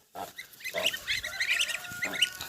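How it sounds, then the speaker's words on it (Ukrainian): Adult geese honk in a cluster of calls, close by and fairly loud, with brief squawks overlapping through most of the stretch on a farm where goslings are being herded. "Погані гуси, не буду давати вам гусенят. Бачите, гуска."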